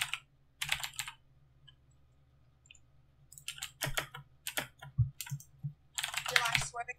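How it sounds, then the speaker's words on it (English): Fast bursts of keystrokes clatter on a computer keyboard in short, uneven clusters with pauses between, fairly close, over a low steady hum. "Bro, you type so fast."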